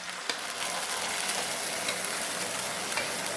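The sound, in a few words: soaked semolina added to caramelized sugar and stirred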